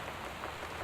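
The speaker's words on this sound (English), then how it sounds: "Northwest Weather Service reports high winds and torrential rain conditions" Torrential rain in the game Gone Home makes a dense, even hiss of drops on surfaces, faint and steady for under a second, with no voices.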